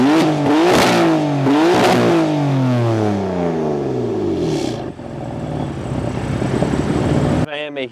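A BMW M4's S55 engine revs hard several times, its pitch rising and falling in loud, close sweeps before settling into a lower drone and cutting off.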